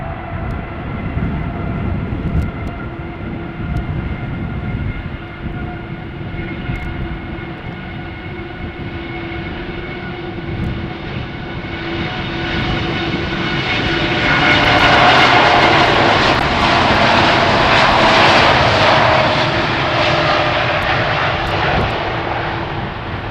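An Air Europa airliner bound for Madrid takes off at Schiphol Airport. Its jet engines hold a steady, loud roar that swells to a peak partway through and then eases slightly, with no voices over it.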